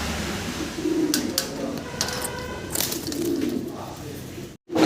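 Soft pigeon coos repeat low and steady against a noisy background, with a few brief sharper clicks and bursts; no voices.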